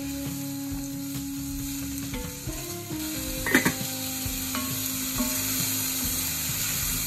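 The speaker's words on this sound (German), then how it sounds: "jetzt brate ich das Suppengrün in etwas Olivenöl an" Chopped soup vegetables sizzle and fry in olive oil in a pan for a vegan roulade dish, a steady close crackle lasting throughout, with a few utensil stirs and clinks against the pan.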